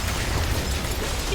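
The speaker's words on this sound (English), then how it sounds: "Standing near exploding barrels?" A rumbling blast from exploding barrels in a video game, a single sustained low boom with broad noisy crackle lasting throughout, loud and close, with no talk over it.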